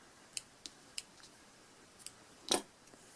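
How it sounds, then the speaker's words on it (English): Scissors snip crochet thread: a few sparse, faint, crisp clicks at close range, ending in one slightly louder double snip, in a quiet room with no speech. "So this is when you can cut thread"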